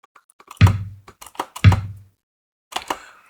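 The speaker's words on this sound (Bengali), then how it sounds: "বেসিক কিক দিয়ে একটা লুপস বানিয়ে দেখি" Basic kick drum loop programmed in FL Studio: two deep, punchy low thumps about a second apart, each with a short boomy tail, with lighter clicky hits between them and a further soft hit near the end.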